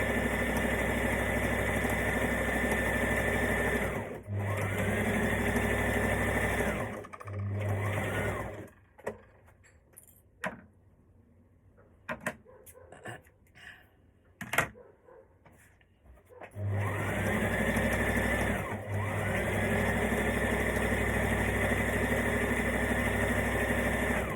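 A sewing machine stitches a maxi skirt seam in long steady runs of dense motor whir, stopping in the middle for a quieter stretch of small handling clicks before starting up again.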